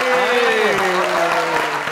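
Audience applause at a comedy stage show fills the whole stretch as a steady wash of clapping, with a voice talking prominently over it throughout.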